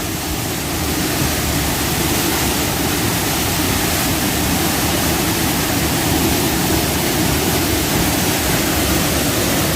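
Powerful waterfall at Pagaralam, Indonesia, roaring as a dense, continuous broadband rush; loud and close with no pauses and no voices.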